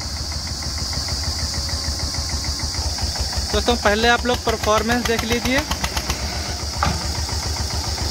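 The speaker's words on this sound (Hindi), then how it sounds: "ये स्वराज 825 XM ट्रैक्टर है दोस्तों" A Swaraj 825 XM tractor engine runs steadily with a low, throbbing idle rhythm and briefly revs louder in the middle, under someone talking.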